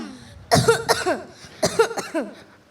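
A person coughs twice, each a short burst of several harsh hacking coughs, close and loud with a brief pause between.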